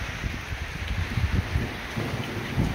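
Heavy monsoon rain pours down steadily, a dense broadband hiss with low rumbling thunder-like swells underneath, close and continuous with no voices.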